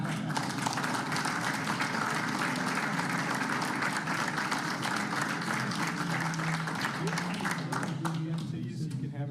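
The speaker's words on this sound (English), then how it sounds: "you can just listen to people clapping at you" Sustained applause from an audience at a school board meeting, dense steady clapping filling the room for the whole stretch, fading slightly near the end.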